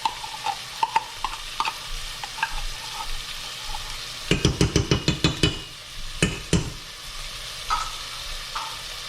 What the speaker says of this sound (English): you cook that down because you want the tomato paste to help not really burn